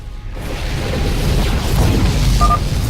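A deep, rumbling explosion swells and roars steadily for a few seconds as a Tal'Darim cannon is destroyed in StarCraft II: Legacy of the Void, loud and close with a brief tonal blip near the end.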